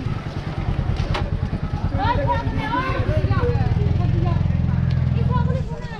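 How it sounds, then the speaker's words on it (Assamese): A motorcycle engine putters and rumbles close by in a busy outdoor Eid gathering, its low pulsing drone running beneath nearly constant nearby talk and crowd chatter. "বাইক"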